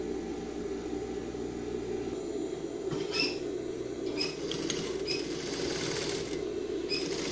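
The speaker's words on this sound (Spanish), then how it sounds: "Aquí vamos a ir cosiendo en el borde del vivo de abajo" A sewing machine stitches along the edge of the piping on a dress trouser back pocket, giving a steady, quiet mechanical whir with light ticking clicks throughout.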